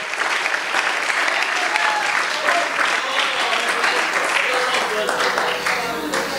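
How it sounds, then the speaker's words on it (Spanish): A church congregation claps together in sustained, loud applause for the full stretch, a dense even patter with voices mixed in beneath it. "Dale un aplauso al Señor en esta hora."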